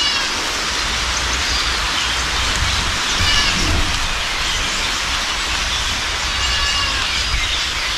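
Steady rain falls outdoors on a warm day, a dense even hiss of drops striking surfaces close by that runs the whole time with no voices.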